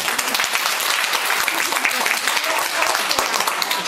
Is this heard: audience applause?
yes